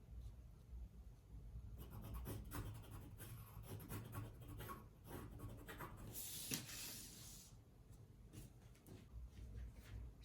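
A pencil drawing lines on paper while drafting a corset pattern with a yoke gives soft, close scratchy strokes, some short and some drawn out, with no talking.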